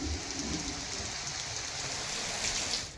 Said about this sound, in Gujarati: તો છોટાઉદેપુરમાં ધોધમાર વરસાદ.